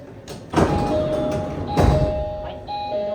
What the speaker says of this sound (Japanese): ドアが開く